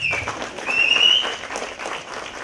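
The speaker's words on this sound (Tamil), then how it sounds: "இந்த இடத்துல கை தட்டணும்" An audience at a Tamil memorial speech event claps on cue, a moderate wash of many hands swelling in the middle and easing off, with a faint thin whistle-like tone over it.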